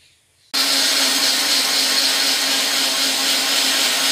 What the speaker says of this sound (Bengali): এবার একটু জল দিয়ে বেটে নেব।